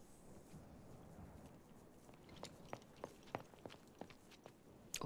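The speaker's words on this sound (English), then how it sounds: "that's a nice footstep noise" Footsteps in the video game Final Fantasy IX, a string of crisp, irregular steps that grow sharper and more distinct toward the end over a soft background hiss.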